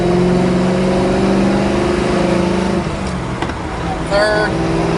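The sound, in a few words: 1971 Chevrolet Nova SS pulling out and shifting gears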